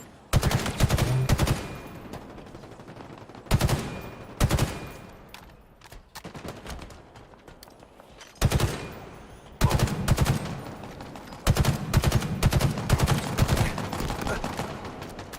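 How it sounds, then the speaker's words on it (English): A scoped gun fires in Halo Infinite in sharp, loud bursts and single shots, with pauses between clusters and rapid volleys packed together near the end. "I like this gun, it's got a scope on it."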